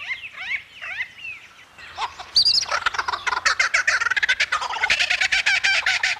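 A male superb lyrebird runs through mimicked calls, starting with sliding whistles and trills, then breaking into a loud, rapid burst of repeated harsh chattering notes that carries to the end.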